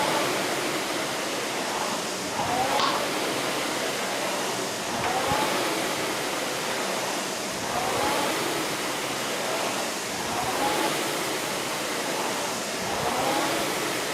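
Rowing machine being rowed, a rhythmic whooshing air-flywheel swell repeating roughly every two and a half seconds, steady and close, with no voices.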